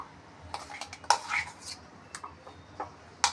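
Green chili chutney scraped from a grinder jar into a bowl, heard as scattered clinks and scrapes of a spoon against metal and ceramic, a few sharp taps standing out.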